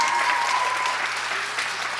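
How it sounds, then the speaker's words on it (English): Steady audience applause at a humanities spring awards ceremony, a dense, even wash of many hands clapping close by, holding constant throughout with no voices standing out. "You all can clap"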